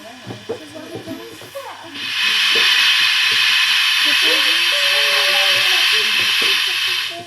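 A model steam locomotive at a model railway exhibition starts up with a loud, sustained hiss of steam that bursts in after a couple of seconds and holds steady, while spectators chatter nearby.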